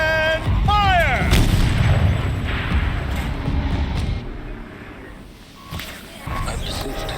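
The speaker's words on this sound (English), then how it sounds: "Rotate turret! And fire!" A turret fires artillery in the video game Horizon Zero Dawn, with a few heavy booms and rumbling blasts among a dense battle din, as voices speak over the action.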